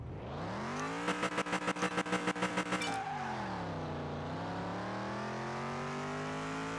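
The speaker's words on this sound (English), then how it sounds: "That sounds like a V8 again" A V8 engine in an Atlanta Camino races around a track in Car Mechanic Simulator 2021, revving hard and climbing in pitch with a fast stuttering pulse, then easing and building again, loud and close with no talk.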